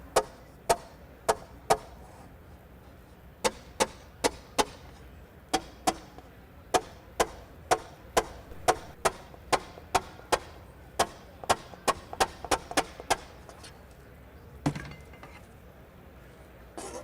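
Bullseye pick tapping small areas of sheet metal during a metal-shaping session, a steady run of sharp, close metallic taps in irregular clusters, some quick and closely spaced, with no talking.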